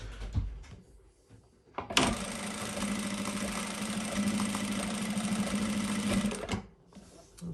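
An industrial sewing machine, a PS-1987B or PS-1933B, stitches a bar tack into fabric in one steady burst of fast, even stitching lasting about four and a half seconds, close up, with quieter room noise before and after.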